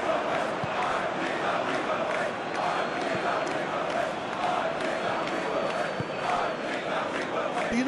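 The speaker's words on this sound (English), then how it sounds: "Crowd appreciates good football all round there." Stadium crowd noise from the PES 2021 football video game, a steady dense roar of applause and murmuring at an Olympic match between the USA and Guinea, continuous and moderately loud throughout.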